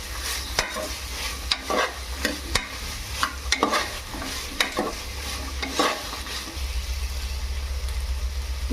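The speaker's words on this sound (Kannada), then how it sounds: "ಈಗ ಆಲೂಗಡ್ಡೆ ಹಾಕೊಳತ್ತೀನಿ ರೀ ಸ್ವಲ್ಪ ಟೊಮೆಟೊ ಹಾಕೊಳತ್ತೀನಿ ರೀ ಹಾಕೊಂಡು ಮತ್ತೆ ಫ್ರೈ ಮಾಡಬೇಕ್ರಿ ರೀ" Potatoes and tomatoes stirred and fried in a pan for vegetable pulao, a crackling sizzle with repeated sharp spatula scrapes and clicks, close up, over a low rumble that grows steadier near the end; nobody speaks.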